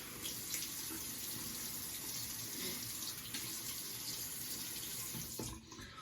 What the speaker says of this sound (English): So I'm gonna get some warm water on the face.